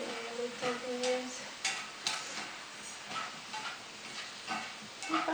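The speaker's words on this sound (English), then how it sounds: "you saute a little bit" Light clinking and stirring in a pan while sauteing for caramelized yellowtail fish with bok choy, scattered soft scrapes and taps over a faint low sizzle, fairly quiet and close.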